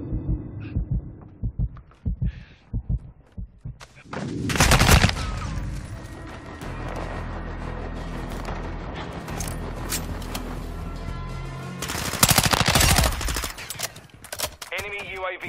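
Bursts of enemy gunfire in a shooter video game, two loud heavy volleys standing out over a dense, steady game soundscape with scattered crackling shots between them.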